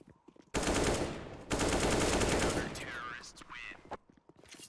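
Rapid automatic gunfire rattles in a Counter-Strike match during a tournament qualifier, two dense bursts of close, loud shots, then a caster's excited voice and a few scattered pops.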